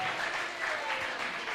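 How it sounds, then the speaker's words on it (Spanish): A congregation at a ministers' convention applauds, the clapping steady and dense across a short stretch. "Un aplauso a Jesucristo en este día."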